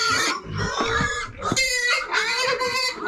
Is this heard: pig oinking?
yes